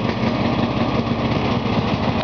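Small homemade lawn tractor engine idling low, a steady close putter running continuously on its own without pause.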